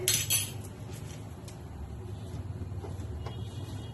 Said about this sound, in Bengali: কড়াই পড়ে গেছে।